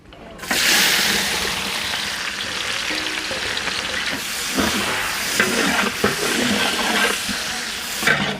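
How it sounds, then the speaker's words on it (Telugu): Onions frying in oil in a large pot for chicken dum biryani, a loud continuous sizzle with bursts of hissing and occasional stirring scrapes, steady from start to end without voices. "ఆనియన్ బ్రౌన్ షేడ్ వచ్చేదాకా బాగా ఫ్రై చేసుకుందాం"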